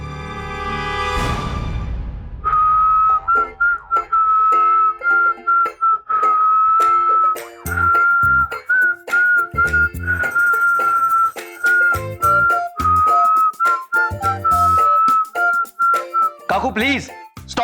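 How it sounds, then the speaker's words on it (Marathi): A woman whistles a steady, sustained tune close to the microphone, with short breaks between phrases, after a sharp crash at the start; no talk over it. "मग आता मी शिट्टी वाजवते"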